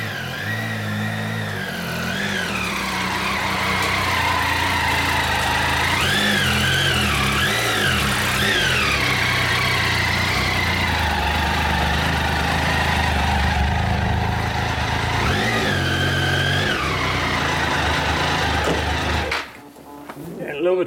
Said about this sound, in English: he's just going to ride his bike onto it